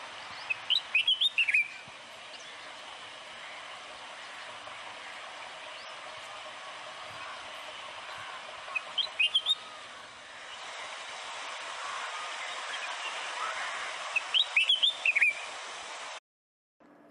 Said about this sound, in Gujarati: હવે બુલબુલના સંગીતનો આનંદ લો.